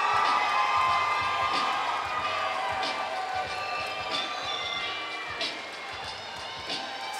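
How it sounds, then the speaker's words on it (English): Fight crowd at a bantamweight MMA event cheers and shouts as a fighter is introduced, a loud, busy roar with scattered whoops and thumps that eases slightly toward the end. "Crowd comes to life for Desmond Alvarado, undefeated, fighting o"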